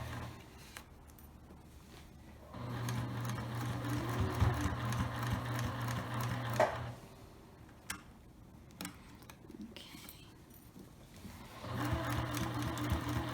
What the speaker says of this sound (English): We're at the sewing machine.